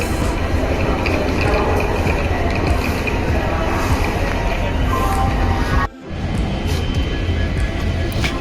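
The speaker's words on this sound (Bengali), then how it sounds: "আর এদিকে ট্রেন ঢুকেও যাচ্ছে" A train rolls into a station with a loud, steady rumble and rush, broken by a brief dip near the end before the rumble resumes.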